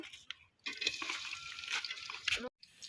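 Chopped onions hit hot soybean oil in a pan and burst into a bright, crackling sizzle that runs for about two seconds at close range, framed by brief quiet gaps and a small clatter at the start.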